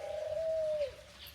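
Caged birds at Prague Castle give a single drawn-out cooing note, soft and somewhat distant, over faint outdoor background.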